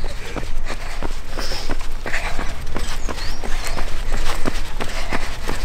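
Rapid running footsteps on a forest path during hobby-horsing with a stick horse, a quick steady patter of close, crisp steps continuing throughout with rustling ground underfoot.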